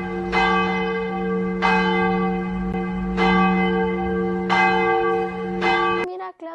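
A hand bell rings in five loud, evenly spaced strokes, each ringing out and decaying before the next, ending abruptly after about six seconds.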